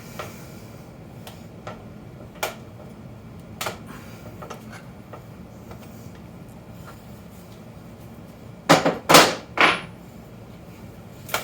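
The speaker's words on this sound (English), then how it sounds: "I'm going to take my big cheater wrench and super torque it back on there." A big cheater wrench tightens a Wolf Tooth chainring on a bicycle, giving sparse faint metallic ticks and then a quick cluster of three louder clanks near the end, with no talking.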